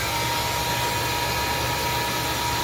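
A shop vacuum hooked up behind a miter saw for cutting PVC railing runs at a loud, steady roar with a faint whine, continuous throughout and without talking.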